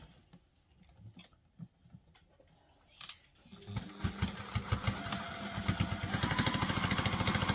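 A sewing machine stitches a sling bag, starting after a few scattered clicks and building into a fast, steady mechanical rattle that grows louder and denser toward the end, close by with no talk.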